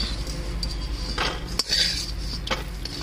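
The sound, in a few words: lifting fried lentil dumplings (bori) out of the pan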